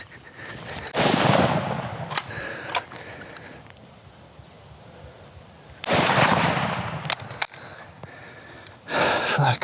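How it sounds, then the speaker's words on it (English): Rifle shots during a hunting safari in Zimbabwe: three loud, nearby blasts spaced a few seconds apart, each echoing briefly across open country, with hushed voices between them. "Shoot him."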